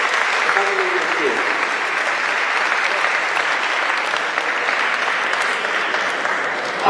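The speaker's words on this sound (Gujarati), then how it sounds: "એવા જાદવ જેનિલનું આપણે તાળીઓના ગડગડાટથી છે આપણે બતાવી લઈએ છીએ." Sustained audience applause at a school annual function, a dense, steady wash of clapping hands that stays loud and even throughout, with faint voices mixed in underneath.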